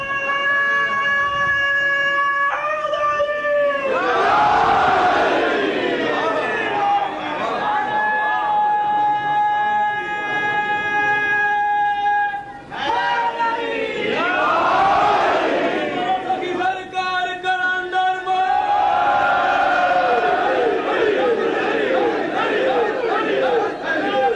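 A crowd at a religious gathering chants slogans in loud, surging bursts, rising several times across the clip, while a man's sustained, tonal recitation carries between and beneath the chants.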